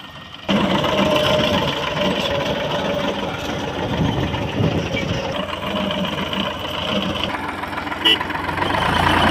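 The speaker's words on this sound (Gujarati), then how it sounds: "જુઓ આ ટ્રેક્ટર આવી ગયું છે મારા સાગરભાઈનું" A tractor engine idles steadily close by on a farm with a low rumbling chug, and people talk over it now and then.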